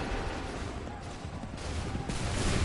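Massed musket fire in Assassin's Creed 3, a dense rolling crackle of many shots blending into a sustained volley that swells toward the end, heard through a noisy battlefield.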